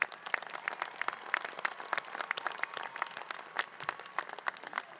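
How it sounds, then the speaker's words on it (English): Graduates at a university commencement ceremony receive a round of applause: many hands clapping at a distance, dense and continuous, with sharper individual claps standing out throughout. "So I want to ask for another round of applause for our graduates."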